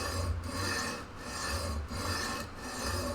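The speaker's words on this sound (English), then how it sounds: "So now I'm taking a leveling beam" Leveling beam wrapped in sandpaper rubbed along a guitar neck's frets, giving repeated rasping strokes in a steady back-and-forth rhythm, close and fairly quiet with no voices.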